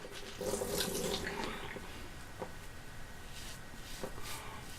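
Water runs softly from a tap into a sink to rinse after a wet shave, a faint steady wash with a few small clicks and splashes, no talk.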